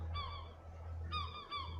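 Seabirds in the survival sailing game Escape the Pacific give honking, goose-like calls: two short bursts of nasal cries close by, set against a constant low rumble of ambience.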